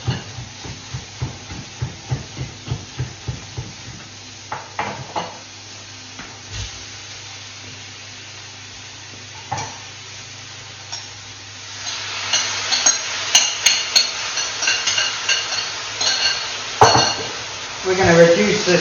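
Sauce hits a hot pan of shredded crispy chilli beef and vegetables and breaks into a bright, steady sizzle and hiss, following a run of rhythmic tapping and stirring at close range.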